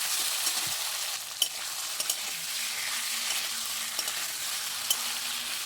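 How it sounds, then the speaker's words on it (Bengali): Marinated singi fish fries in oil in a pan, a steady close hiss of frying with scattered small pops and clicks and a faint hum running underneath, no talking. "ভালো করে উল্টো পাল্টে আমি মাছগুলোকে এবার ভেজে নেব"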